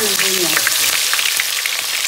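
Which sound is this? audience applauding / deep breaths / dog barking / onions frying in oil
onions frying in oil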